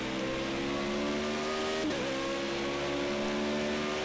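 A Formula Renault 3.5 open-wheel race car's engine holds a steady high-pitched drone in Project CARS 2, its pitch dipping briefly around the middle as it shifts, then climbing again, loud and continuous with no talk.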